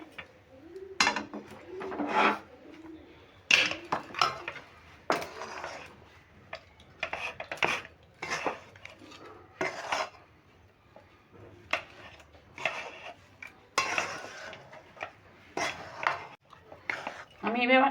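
Rice flour and mixed lentil batter for fried pitha being stirred in a wok off the heat, with repeated scraping and clinking of a utensil against the pan in an irregular rhythm, close and fairly loud.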